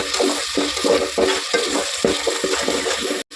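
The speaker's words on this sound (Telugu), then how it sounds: "ఇప్పుడు ఉల్లిపాయ పేస్ట్ వేస్తున్నాను" Onion paste frying in a pan and being stirred, with steady sizzling and repeated scraping strokes of the spoon in a rhythmic pattern, fairly loud and close.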